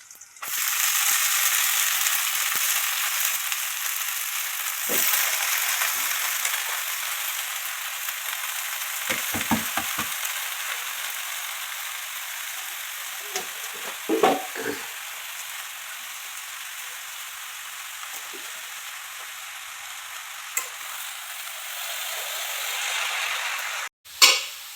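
Bottle gourd leaf greens hit hot oil in a frying pan, raising a loud, steady sizzle that runs the whole time, with a few scattered stirring knocks and scrapes mid-way and a sharp clatter at the very end.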